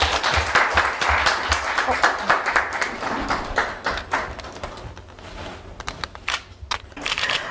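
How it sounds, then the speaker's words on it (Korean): An audience at a youth seminar claps in dense, steady applause that gradually thins into scattered claps, with someone speaking over it. "큰 박수 부탁드립니다"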